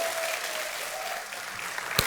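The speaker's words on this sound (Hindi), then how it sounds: "तालियों के साथ उनका स्वागत किया जाए।" Studio audience on a TV quiz show claps steadily in welcome for badminton star PV Sindhu, a dense continuous wash of applause with a sharp louder clap at the end.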